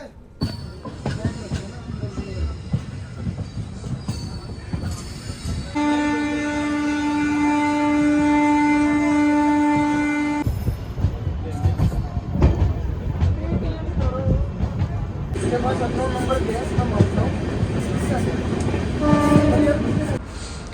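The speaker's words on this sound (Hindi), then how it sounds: "हमारी ट्रेन यहाँ से, ये देखिए, यहाँ से प्रस्थान कर चुकी है" Indian passenger train departing a station on the Rishikesh route: a long, loud horn blast over rumbling wheels and carriage clatter, then rolling rail noise and a second horn sounding near, with a voice talking over parts.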